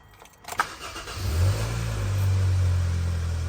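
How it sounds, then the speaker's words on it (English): A cold 2013 Hyundai Sonata engine cranks briefly and catches, then settles into a steady, close, loud idle that holds to the end. "We're just gonna start the car, let it run for like 5 minutes just so we can let the oil circulate."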